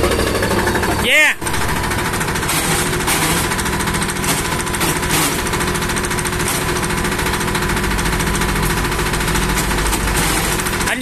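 A diesel engine on a used Japanese motorized wheelbarrow with a 500 kg load rating runs loud and close, a steady rapid clatter throughout with one brief dip, while people talk over it.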